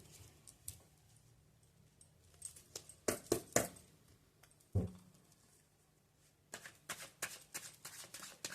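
Tarot cards being shuffled in quiet bursts, a couple of riffles near the middle and a string of crisp flicks and taps toward the end, close and fairly soft with no talking.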